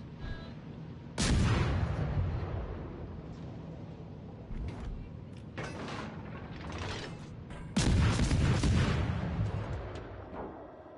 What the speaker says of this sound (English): Then fire cannons!